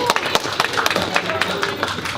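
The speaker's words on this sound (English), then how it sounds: "Round of applause." An audience at a music-to-business workshop claps in a round of applause, a brisk run of scattered claps close by, with a voice talking over it.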